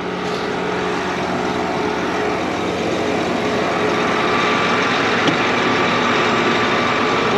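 A tractor engine running steadily, a loud continuous droning rumble with broad noisy roar that stays even throughout with no talking.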